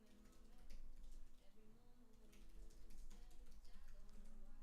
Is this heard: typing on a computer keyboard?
yes